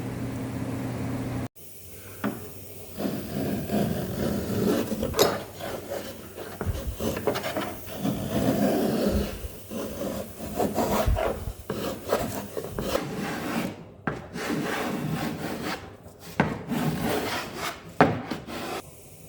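A rasp files a wooden scarf joint flat on a boat frame, steady rough scraping strokes running close and continuous with brief pauses between passes.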